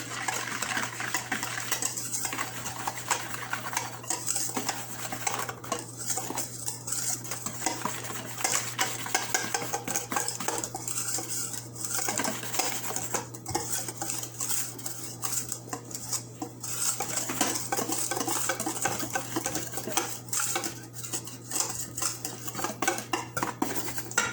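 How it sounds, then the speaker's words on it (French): A cake batter being mixed in a bowl, with a steady scraping, tapping stir of utensil against the bowl running continuously and fairly close for the whole stretch, over a low constant hum, no talk. "Je mélange la première partie."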